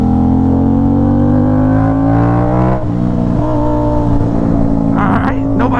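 An Aprilia RS 660 motorcycle engine winds up loud and close, climbing in pitch, dropping sharply at a manual gear change, then pulling up again through the next gear.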